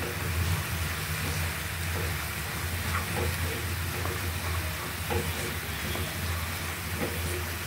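Onions and spices with coriander powder and salt frying in oil while being stirred in a pan, a dense, even sizzle with repeated scraping strokes and soft clicks, close and continuous.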